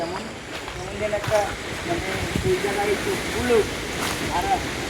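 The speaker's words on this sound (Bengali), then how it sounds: "আজকে এত পরিমাণে বাতাস মানে বাগানে থাকার মতো পরিবেশ নাই" Strong wind rushing through old trees in a garden, a steady roar with gusting swells, while people talk in the background.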